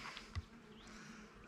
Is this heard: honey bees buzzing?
yes